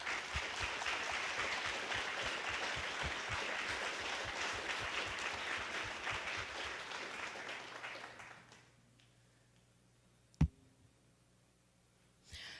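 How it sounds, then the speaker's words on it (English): A crowd applauds steadily and loudly for several seconds, then the clapping fades out, leaving near silence broken by a single sharp click. "So I would like to call for a big round of applause for our sponsors."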